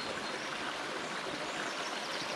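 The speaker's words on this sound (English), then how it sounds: "It's quite steep, there's lots of little waterfalls cascading down the hill." A steep hillside stream tumbles down in many small waterfalls, a steady broadband rush of cascading water that stays even and continuous with no voices.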